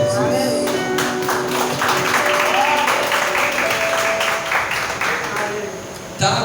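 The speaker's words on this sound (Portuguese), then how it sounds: "Vamos dar uma salva de palmas para Jesus" Church congregation applauding for Jesus during an evangelical mission service, a dense sustained wash of clapping with music and voices mixed in, ending abruptly.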